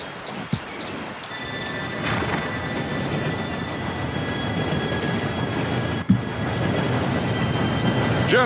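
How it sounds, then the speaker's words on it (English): A steam-era train arrives on the railway in the Red Dead Redemption 2 video game, a steady loud rumble of rolling wagons with a faint high whistle-like tone and a couple of metallic clanks. "Train should be here any minute now."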